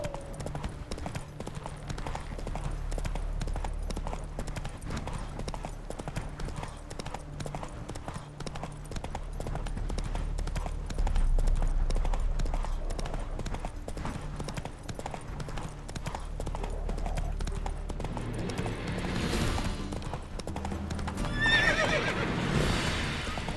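A horse gallops in The Witcher 3, a fast, continuous clatter of hooves under game music, with neighing and a rising commotion toward the end.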